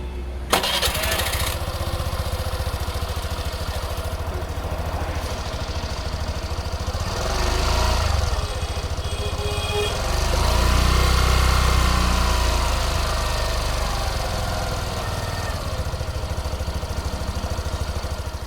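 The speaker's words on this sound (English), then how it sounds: "Now let's listen to the exhaust note." A 2020 Suzuki Access 125 BS6 scooter starts up, then settles into a steady single-cylinder idle with a few gentle revs, running close and loud on its own for about eighteen seconds.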